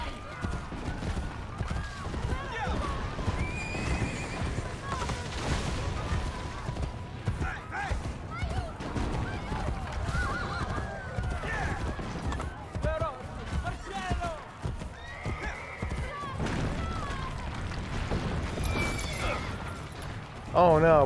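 Horse hooves clatter in a rapid galloping rhythm amid a busy Assassin's Creed Brotherhood battle scene, with voices talking throughout and a brief high neigh near the end.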